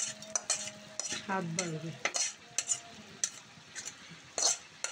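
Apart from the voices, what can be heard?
panch phoron tempering poured into pan, sizzling and stirring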